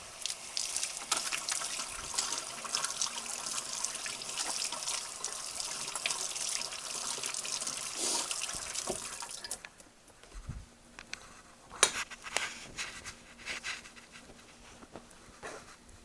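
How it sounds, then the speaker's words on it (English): A kitchen tap runs steadily while hands are washed under it, a close, continuous gush that stops about two-thirds through, leaving scattered drips and small handling sounds. "I do have to wash my hands"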